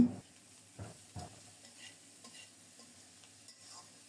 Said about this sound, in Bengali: ভালোভাবে নেড়ে চেড়ে সব কিছু মিশিয়ে দিয়ে ঢেকে ঢেকে রান্না করব